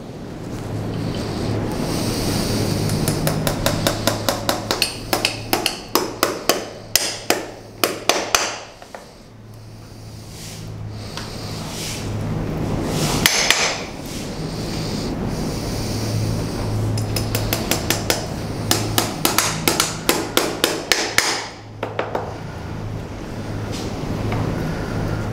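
Hammer blows drive horseshoe nails into a shoe on a horse's hoof, coming in quick rhythmic bursts of sharp metallic taps, close and loud over a steady windy outdoor background.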